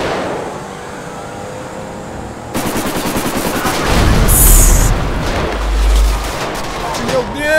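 Video game shootout with police during a bank robbery, loud rapid automatic gunfire bursts and heavy booming shots close by, continuous and dense, joined by a low rumble midway.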